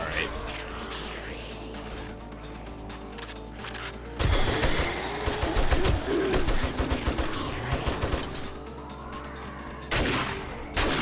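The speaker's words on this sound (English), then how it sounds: "How anything can survive a shotgun blast, to the face is beyond me." Shotgun blasts in the zombie survival game 7 Days to Die, fired during a multiplayer horde night at a base, a loud burst of impacts and commotion in the middle that stands out over a busy bed of game sounds.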